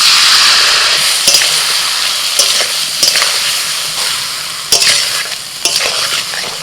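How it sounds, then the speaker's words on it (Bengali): Mustard and ginger paste with cumin and Kashmiri chili powder stirred in a hot pan, a loud bright sizzle with intermittent scraping spoon strokes, easing slightly toward the end. "সর্ষে বাটা দেওয়ার পর জাস্ট দু মিনিট মতো একটু নাড়াচাড়া করে নিয়েছি"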